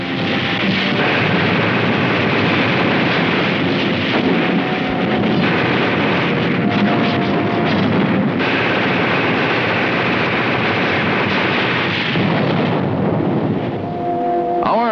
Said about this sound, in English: Artillery engaged in a duel with enemy guns.